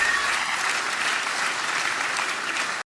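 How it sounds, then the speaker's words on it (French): Audience applause at a French political meeting, a dense, even burst of clapping from a crowd that runs steadily and then cuts off abruptly. "Tu vois, ils m'applaudissent"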